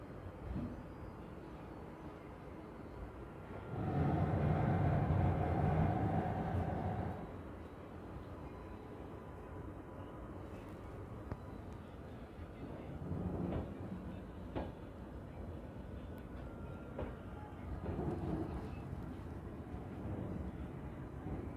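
The Darjeeling Mail passenger train at a quiet, empty Bolpur Shantiniketan station at night gives a loud rumbling roar for a few seconds, then a low steady rolling hum with faint clanks.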